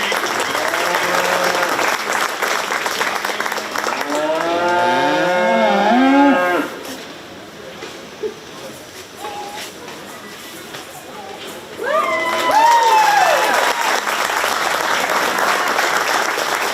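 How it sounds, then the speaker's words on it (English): Audience applause at a county fair 4-H/FFA market beef cattle show: loud, steady clapping that fades into a quiet stretch with a cow lowing, followed by another burst of clapping and mooing. "Let's give these kids a round of applause."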